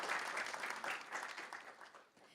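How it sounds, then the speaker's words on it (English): Audience applause after a team presentation at a built-environment digital twin hackathon, a steady round of clapping that fades toward the end. "And now, round of applause."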